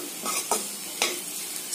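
Noodles tossed with masala in a pan, a dry scraping stir with two sharp utensil knocks against the pan and a soft sizzle underneath, close and alone.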